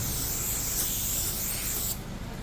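A close aerosol can of brake cleaner sprays onto a Jeep Renegade's brakes in a continuous loud hiss for about two seconds, then cuts off.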